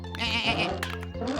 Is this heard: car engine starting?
no